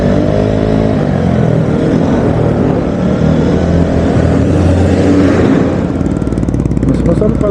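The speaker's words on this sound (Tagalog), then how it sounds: "Masarap pala mag-scooter kaysa mga bisikleta." A Vespa Sprint scooter rides along a road in summer heat, its small engine droning loud and steady with wind rush throughout.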